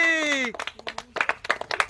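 Brief scattered hand clapping from a small group at a Diwali girls' party game, starting right after a short voiced exclamation.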